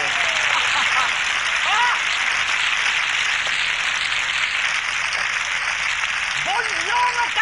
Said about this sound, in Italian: Un applauso per il cliente.